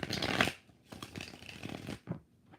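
Tarot cards shuffled during a live reading: a loud, dense burst of riffling in the first half-second, then several softer, quicker shuffles and taps in close succession.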